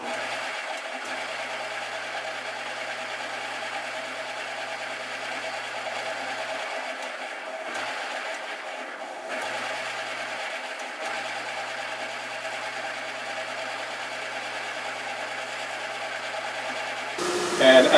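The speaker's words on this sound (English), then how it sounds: "Now I go over to the radius disc sander and the drill press." A radius disc sander in a guitar workshop runs with a continuous, even motor whir while a Stratocaster kit fret is shaped. The whir holds steady at moderate loudness throughout, with a brief louder bump at the very end.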